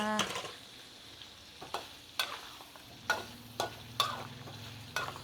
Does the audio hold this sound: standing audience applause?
no